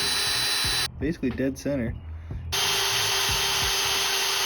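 A power drill runs loud and steady while extracting a snapped bolt on a Fox Body Mustang, with a brief pause for a short spoken remark before the drilling resumes.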